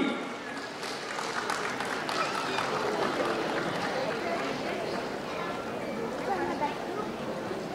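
An award ceremony audience claps steadily, a dense, sustained round of applause with voices mixed in beneath it.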